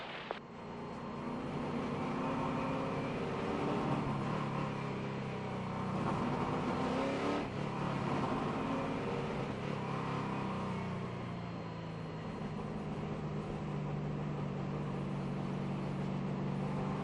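Stock cars in a 2006 NASCAR Cup Series race at Martinsville roar steadily at close range, a dense sustained engine drone with swelling passes and revs throughout.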